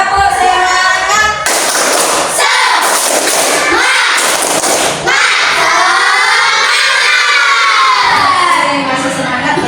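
Children in a classroom performing a rhythmic spirit clapping chant, loud close bursts of claps and shouted chanting voices mixed with thumps, with a voice leading between the bursts.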